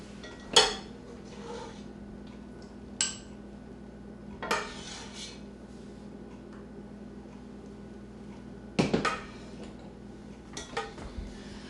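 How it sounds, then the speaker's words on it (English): Cooking pans being pulled out in a kitchen, with a handful of sharp metallic clanks and knocks spread apart over a quiet room hum. "Get out another pan"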